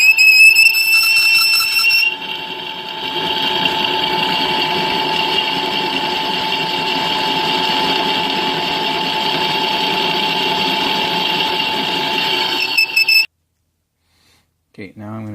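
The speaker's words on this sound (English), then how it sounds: "I'm going to go 1 or 2 sizes over 1/4 on the drill press." A drill press runs with a 9/32 bit drilling a fitting for a transmission cooling line repair, a loud steady whine with tonal hum that holds for about eleven seconds before stopping abruptly, followed by brief quiet.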